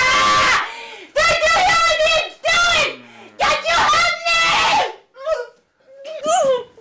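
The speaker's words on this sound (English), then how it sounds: "Yes, you can scream." Person screaming in a series of loud, strained bursts, several long wails followed by shorter, higher cries with brief gaps between them.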